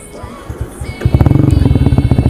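A Yamaha YZF R125 motorcycle with an aftermarket exhaust cranks and fires up, settling into a loud, rapid, throaty burbling idle with sharp pulsing exhaust beats.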